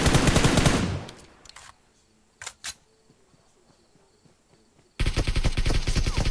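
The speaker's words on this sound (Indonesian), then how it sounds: "Musuh tembak di sana." Gunfire in the video game PUBG: a loud, dense burst of rapid shots at the start, two brief sharp cracks in the quiet middle, then another heavy sustained burst near the end.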